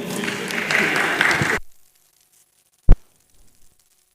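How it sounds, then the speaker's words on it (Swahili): Audience applause at a youth fiscal forum in Baringo Central rises into a loud, dense burst of clapping for about a second and a half, then stops abruptly, followed by silence and a single sharp knock. "Pigie makofi"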